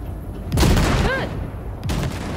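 Gunfire aimed at car wrecks in Cyberpunk 2077, loud booming bursts of shots, one burst early and another near the end, with a metallic ringing tone between them.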